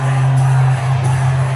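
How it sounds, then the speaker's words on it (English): A UFC arena crowd roars and cheers wildly for Donald Trump's appearance at UFC 290, a dense, loud, continuous wash of voices with a steady hum underneath. "the crowd is just going wild for him"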